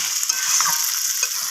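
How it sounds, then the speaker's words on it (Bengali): Chicken coated with yogurt being stirred in a pan, a bright continuous sizzle with light scraping and clicking from the spoon over a short stretch. "টক দইটা দিয়ে এবার আমি খুব ভালোভাবে নাড়াচাড়া করে মিশিয়ে নিচ্ছি"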